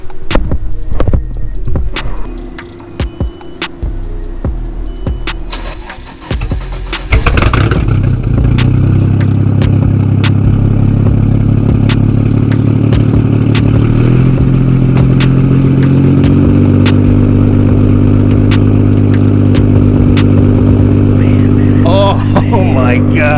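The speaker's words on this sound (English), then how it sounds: "that rumble, so much louder than the other one" A Nissan R32 GT-R fitted with a new Tomei aftermarket exhaust starts up: after a few seconds of clattering, cranking noise, the engine catches with a loud, deep, steady rumble that idles on close by, with a faint voice near the end.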